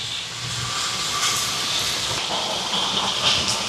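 Fenugreek seeds fry in hot sesame oil, giving a steady, close sizzling hiss with faint crackles that swells slightly toward the end.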